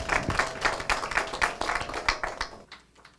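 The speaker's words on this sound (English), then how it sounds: "So let us welcome her with a round of applause." Audience at a parliamentary gathering applauds to welcome a speaker, with moderate, uneven claps that taper off and stop near the end, leaving quiet.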